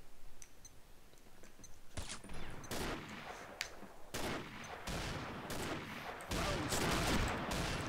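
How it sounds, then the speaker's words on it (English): Gunfire in the video game Combat Arms: sharp single shots and short rapid bursts crack out irregularly, growing denser and louder toward the end, with no talking. "Shot my teammate."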